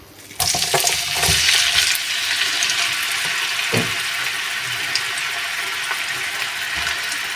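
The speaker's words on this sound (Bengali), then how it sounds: "এখন পেঁয়াজের বেরেস্তা করে নেব" Sliced medium onions frying in hot oil for crisp birista, a loud steady close hiss that bursts in suddenly and holds, with occasional stirring scrapes and clinks.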